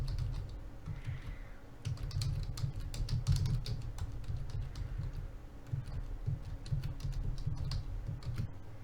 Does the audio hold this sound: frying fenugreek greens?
no